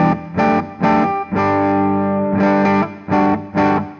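A Gibson SG runs through an EarthQuaker Gary pedal into an amp for a clean tone that breaks up slightly, with loud strummed chords in short choppy bursts and one longer sustained chord in the middle, and no talking.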